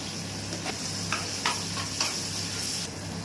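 Ginger garlic paste frying in a pan with green chillies for a bitter gourd fry, a steady close sizzle with a few soft clicks of stirring, brief and without talk.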